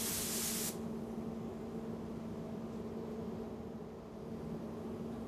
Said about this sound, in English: With localized masking completed in the spray booth, etch primer is applied, protecting the bare metal surfaces from corrosion.